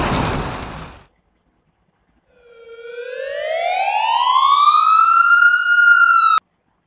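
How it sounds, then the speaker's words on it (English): A fire engine siren starts after a short burst of noise and a gap, then winds up in a long, rising wail that grows loud before cutting off abruptly. "Fire engine."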